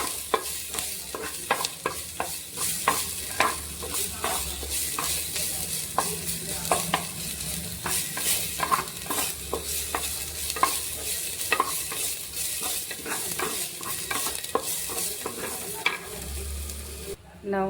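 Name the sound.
masala frying in pan for drumstick-leaf egg fry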